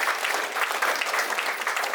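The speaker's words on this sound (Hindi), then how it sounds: "ताली मारेंगे फादर ज्ञान के लिए।" Steady applause from a church congregation welcoming Father Gyan at a Catholic church gathering, a dense continuous clapping that stays even and fairly loud throughout, with no talk over it.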